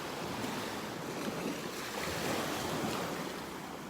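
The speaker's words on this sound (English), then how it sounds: "A few more waves than yesterday here." Ocean waves wash onto a beach in North Naples, Florida, a steady broad roar of surf with wind buffeting the microphone and no voices.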